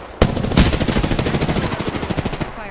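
Automatic weapon fire in the shooter Apex Legends, a loud close burst of rapid evenly spaced shots lasting a couple of seconds with no talk over it.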